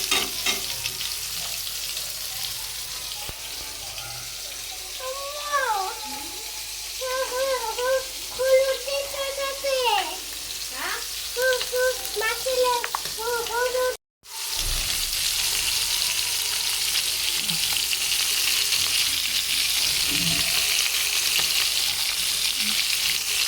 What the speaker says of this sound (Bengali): বন্ধুরা, এখন আমি তেলের ভিতরে পেঁয়াজ দিয়ে দিছি।